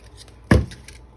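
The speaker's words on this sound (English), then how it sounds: "I'm gonna go ahead and trim that off a little bit." Scissors make one short, crisp snip while trimming paper for a junk journal. The single close cut stands out against near silence.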